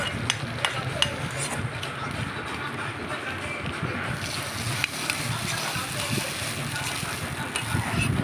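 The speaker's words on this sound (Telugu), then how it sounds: "మేమైతే పులిహోర కలుపుతున్నాం." Pulihora tempering being stirred and mixed, a busy, close scraping and sizzling texture that runs throughout, with a voice talking over it.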